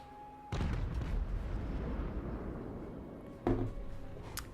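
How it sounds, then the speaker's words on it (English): Cathay cannons firing in a Total War-style fantasy video game: two deep booming blasts, the first followed by a long rumbling tail and the second a few seconds later, over battlefield din. "Cathay cannons fire again."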